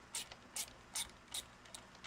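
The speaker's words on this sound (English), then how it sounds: "So I'll go ahead and get these case screws out" Ratchet wrench removing case screws from a C4 Corvette alternator, five quiet evenly spaced clicking bursts close by with nothing else around them.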